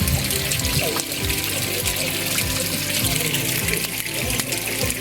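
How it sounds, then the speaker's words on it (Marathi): A small monsoon waterfall on a Sahyadri trek near Tung fort pours in a dense, steady rush, loud and close, with splashing pulses underneath and no talk. "धबधबे नाही म्हणजे एक छोटे मिनी धबधबा आहे"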